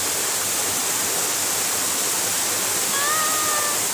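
A waterfall on a hiking trail roars with a steady, loud rushing wash of water close by, and a brief faint bird whistle rises over it near the end.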